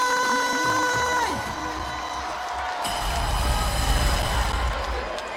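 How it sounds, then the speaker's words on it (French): An audience at a live Wozo vacances 2026 elimination-round singing contest breaks into applause and cheering to welcome a singer. The crowd noise rises after a fading musical tone and keeps going. "On va applaudir très fort pour recevoir"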